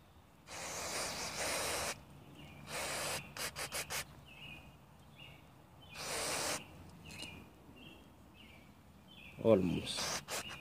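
Carburetor cleaner is sprayed onto a carburetor in short hissing bursts of varying length, some rapid and clipped, separated by quiet pauses, with a brief louder rattle near the end.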